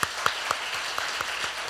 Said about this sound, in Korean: 박수 한번 크게 한번 주시기 바랍니다.